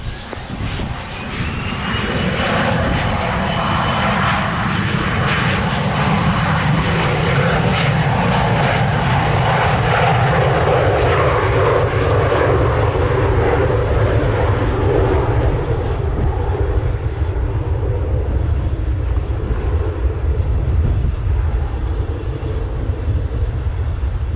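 A Jetlinx aircraft takes off from runway 07 at Montego Bay in a strong 27-knot wind, its engines roaring loud and steady for the whole stretch, then easing slightly as it climbs away.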